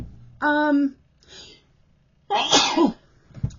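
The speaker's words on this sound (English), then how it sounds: "Okay, 3 sneezes, I'm usually done." Two loud sneezes close by, one sharp voiced burst followed after a pause by a second, fuller explosive sneeze, with a short breathy sound between them and a faint throat sound at the end.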